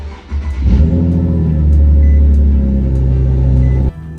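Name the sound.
Nissan G37 with Z1 exhaust and tune starting up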